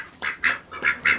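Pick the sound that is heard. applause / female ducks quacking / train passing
female ducks quacking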